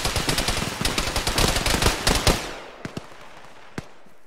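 Rapid machine gun bursts rattle loudly in an Arma military game battle, dense and continuous for about two seconds, then a few isolated distant shots crack out after the firing stops.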